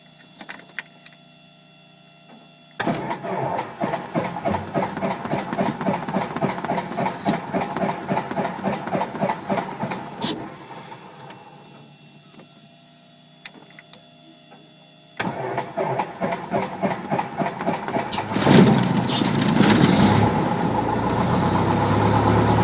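A Cessna 172 aircraft engine cranks and fires twice, separated by a quieter gap, then settles into a loud, close, rhythmic propeller-engine idle with pulsing beats.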